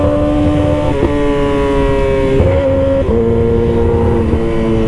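Yamaha R6 600 sport bike, redlining at 17,000 RPM, screams at high revs, loud and close, with a sustained shrill engine tone that steps through quick shifts and a few brief dips, no talk.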